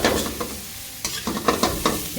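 Fried cuttlefish pieces and chopped spring onions stirred together in a pan, giving a close, steady sizzle broken by several distinct scraping strokes of the spoon against the metal.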